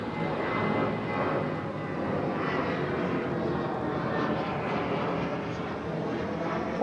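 A Lufthansa airplane going around at Barcelona El Prat airport gives a steady, distant broadband engine roar that holds evenly throughout.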